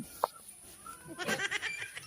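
A goat bleats: one short, sharp cry near the start, then a longer, louder wavering bleat over a noisy village background where people murmur.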